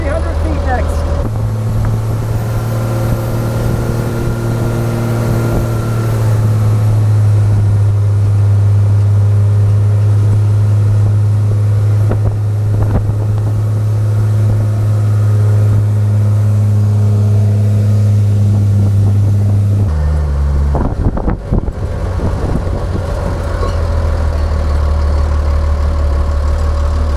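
A dune buggy engine drones steadily and loudly as the buggy climbs a sandy trail uphill in Michigan, with a deep sustained hum and a brief shift in pitch near the end.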